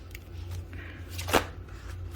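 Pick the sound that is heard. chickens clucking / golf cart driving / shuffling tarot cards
shuffling tarot cards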